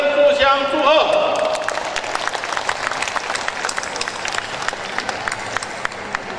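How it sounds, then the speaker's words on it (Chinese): An audience claps at the founding ceremony of the Overseas Chinese Calligraphers Association in Jakarta, rising from a voice over a speaker system into several seconds of scattered, lively applause in a hall. "请大家以最热烈的掌声互相祝贺"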